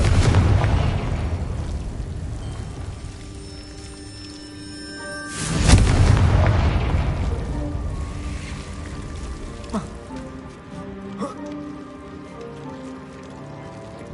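A fire-curse blast from the video game Hogwarts Legacy erupts midway as a single loud burst over steady game ambience, then decays into a lingering rumble with faint tonal effects.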